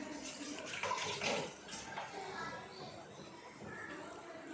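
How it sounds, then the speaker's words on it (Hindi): Small dahi vada batter balls drop into hot oil and fry with a steady broadband hiss that swells briefly, then settles into an even sizzle while someone talks over it. "तो यहाँ पे मैं बड़े डाल रही हूँ तेल में"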